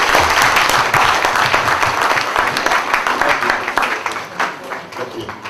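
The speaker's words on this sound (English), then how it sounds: "Ladies and gentlemen, shall we give them a big hand of applause?" Audience applause at a political party event, loud and dense clapping from a sizeable crowd, sustained and slowly tapering toward the end.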